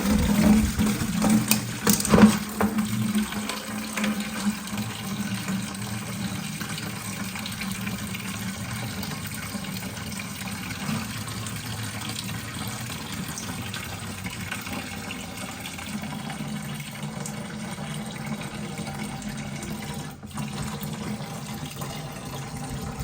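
Fluid draining steadily from a VW Mk7 GTI during oil cooler gasket work, a continuous close splashing and trickling wash into a bucket, running alone and evenly for the whole stretch.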